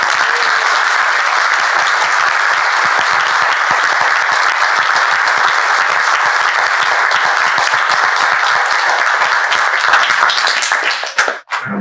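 Sustained, loud audience applause at a book launch for La Provincia de Atacama, welcoming a speaker; thick, even clapping from a large crowd that runs for many seconds, then cuts off abruptly at the end.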